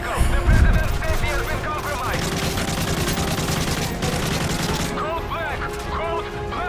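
Rapid automatic gunfire bursts crackle through a Modern Warfare 3 campaign battle, with game effects and background chatter mixed in and a loud boom near the start.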